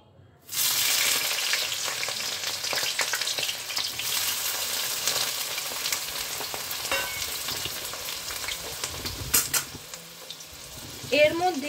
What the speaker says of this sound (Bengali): তেলটা ভালোভাবে গরম হয়ে গেছে। এবার আমি এর মধ্যে দিয়ে দিচ্ছি কেটে রাখা বেগুন।